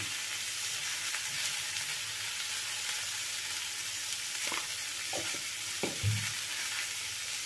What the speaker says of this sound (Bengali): এখন আমি লো ফ্লেমে এটাকে অল্প একটু নাড়াচাড়া করে নেব।